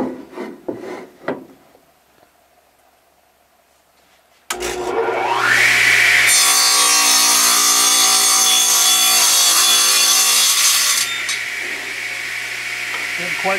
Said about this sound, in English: We're going to trim the other end off so that we can set this on end as we work on the next steps.